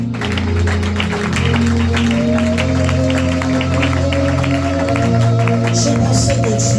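A church congregation at an evening deliverance service claps and calls out in acclaim, a loud, continuous crowd roar with sustained voices and scattered cheers filling the whole stretch, mostly without individual speech standing out.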